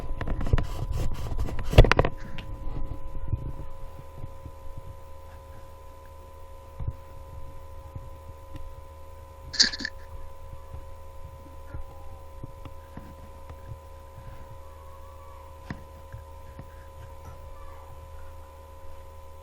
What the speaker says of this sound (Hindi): ये मेरे ख्याल से लैपटॉप का फ़ैन चलने लग गया, इस वजह से शोर आ रहा है आपको।